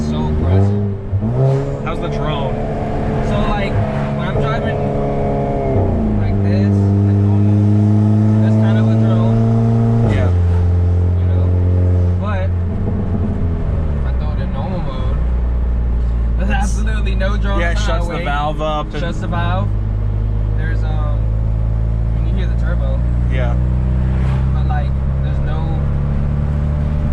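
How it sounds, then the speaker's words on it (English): A Hyundai Veloster N with a bolt-on exhaust and DCT gearbox drones steadily from inside the cabin while driving, a loud low hum that shifts pitch with gear changes as people talk over it throughout. "I don't want to make my car so loud that it drones"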